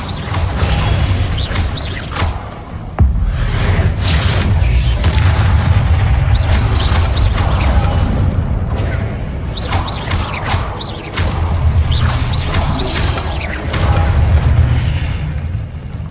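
Spell combat in Hogwarts Legacy, with a Confringo blasting spell setting off loud booming explosions amid clanking mechanisms, creaks and thuds in a continuous, dense stretch of game sound effects.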